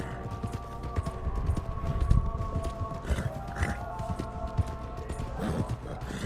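Hooves of a large pack horse clip-clopping at a steady walking rhythm in Red Dead Redemption 2, close and moderately loud over a low ambient hum, with faint game music tones.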